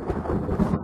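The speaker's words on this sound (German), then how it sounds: "Jetzt habe ich mich... voll vor den Donner erschreckt." Thunder in the survival video game The Forest rolls as a short, low rumble, heard alone without talk.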